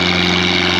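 A tractor engine roars steadily at a local tractor-pulling event in Denmark, a loud, close, continuous drone with no talk over it.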